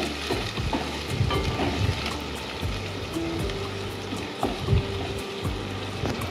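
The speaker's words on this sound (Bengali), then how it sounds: "এরপর আমরা এর মধ্যে দেবো পরিমাণ মতো জল দিয়ে আবার আমরা ভালো করে এগুলিকে কষিয়ে রান্না করে নেব।" Spices and water stir-fried in a pan for an egg lababdar curry: close sizzling and frying with repeated scraping and stirring strokes, dull knocks of the spoon against the pan, and no talking.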